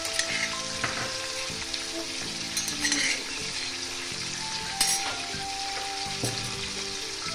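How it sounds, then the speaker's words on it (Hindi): Chicken pieces frying in hot oil for achar gosht, a continuous close sizzle with occasional stirring scrapes and clinks of a utensil against the pot. "चिकन हमने ऑयल में फ्राई करने के लिए डाल दिया है"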